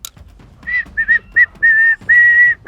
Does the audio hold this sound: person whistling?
yes